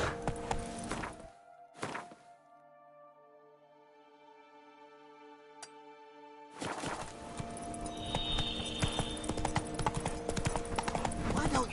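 Horse hooves clip-clopping in The Witcher 3: Blood and Wine on PS5, brief thuds early, then a quiet musical stretch, then a steady close trot of hoofbeats under ambient game sound, with a voice speaking partway through.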